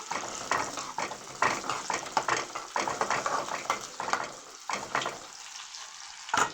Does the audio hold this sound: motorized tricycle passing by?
no